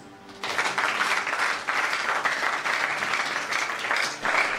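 A church congregation bursts into sustained applause that starts abruptly and holds steady and dense, with surges of clapping throughout and no talk over it.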